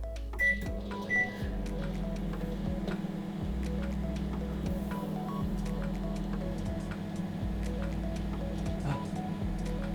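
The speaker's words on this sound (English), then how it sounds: "I was wondering what would happen if I put it in a microwave" A microwave oven hums steadily with an egg inside, a constant low drone with faint ticks and a couple of brief beeps near the start, no talking.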